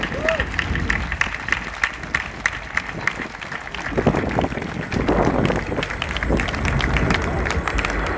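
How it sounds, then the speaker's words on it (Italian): A crowd breaks into loud, sustained applause honoring young people who sang and danced at a public gathering, a dense wash of clapping that swells and holds steady with no speech over it. "Facciamogli un applauso forte a loro."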